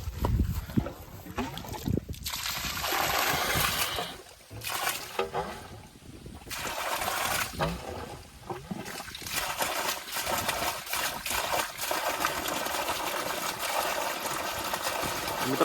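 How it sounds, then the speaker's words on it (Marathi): Water gushes steadily from a borewell driven by a 3 HP CRI solar pump, a loud continuous rushing and splashing that swells and dips briefly, with occasional faint voices nearby. "पाणी स्टार्ट होत आहे."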